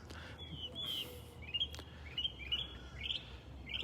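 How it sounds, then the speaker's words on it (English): Birds sing at sunrise in North Naples, Florida, with short bright chirps and tweets repeating at a lively rhythm over a soft, steady outdoor background. "Listen to the birds."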